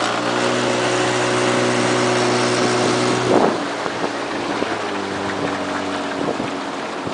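A 15 hp outboard boat motor hums steadily and loudly, briefly dipping in pitch partway through before carrying on, with wind buffeting the microphone.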